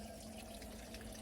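A 2002 Crane Atlas toilet flushing, a steady rushing of water swirling and draining through the bowl, continuous and fairly quiet at close range with no voices.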